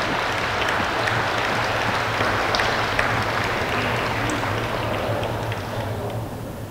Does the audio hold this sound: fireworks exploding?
no